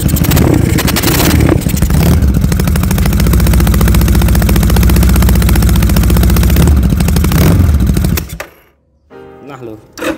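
A Yamaha Scorpio 500cc two-cylinder motorcycle, left unstarted for nearly a month, starts and revs with a loud, rough, popping engine roar close by, then cuts out abruptly near eight seconds, leaving near silence.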